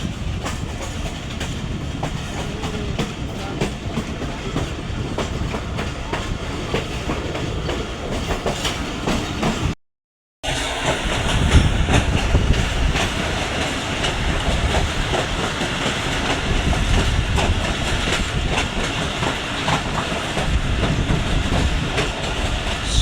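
The 13 Up Awam Express passenger train rolls along the rails in an old coach, a loud steady rumble with clickety-clack wheel beats and hiss, briefly cut to silence partway through.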